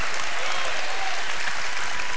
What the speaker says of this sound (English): let's give it a lot of clap back